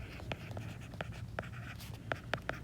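Pen or marker writing out a math formula for an arithmetic sequence, a string of close, quiet scratches and taps in short irregular strokes with brief pauses between them.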